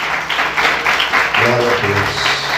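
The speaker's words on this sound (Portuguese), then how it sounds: "Quantos podem aplaudir Jesus?" A church congregation claps during a Sunday morning service, a continuous wash of applause with a voice speaking over it partway through.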